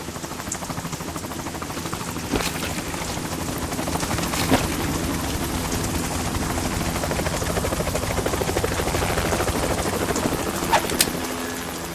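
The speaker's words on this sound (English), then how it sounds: "You will be on the helicopter out of here now." A helicopter in Metal Gear Solid 2: Sons of Liberty thrums steadily and loudly with dense rotor chop for twelve seconds, with occasional sharp cracks from other game sounds mixed in.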